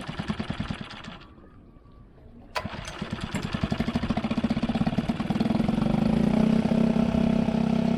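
An outboard boat engine with a refurbished starter candle cranks with a pull, falls quiet briefly, then catches and runs, settling into a loud, steady, rising putter.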